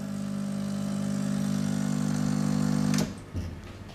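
A Bellezza Giulia espresso machine running on tap water, a steady close motor hum with a buzzing tone that cuts off after about three seconds, followed by a few quieter clunks and gurgles.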